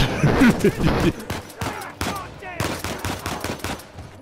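Rapid gunfire from the video game Uncharted 4, bursts of sharp repeated shots firing close and loud, with a few short pauses between volleys.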